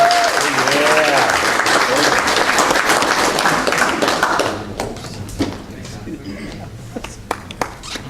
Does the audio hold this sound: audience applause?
yes